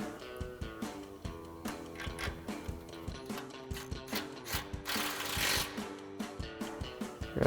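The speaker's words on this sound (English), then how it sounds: "We'll grab our 10mm socket first." A ratchet with a 10mm socket tightening a brake line bracket bolt on a Ford F-150, a series of quick repeated clicks in short rhythmic strokes, close, with a quiet hum underneath.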